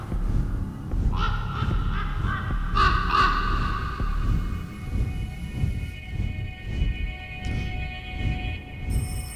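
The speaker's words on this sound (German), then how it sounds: "Vögel, Vögel!" Bird calls ring out in the video game Rise of Insanity: several harsh, honking caws that rise over a steady low ambient drone, clustered near the start and middle and fading out toward the end.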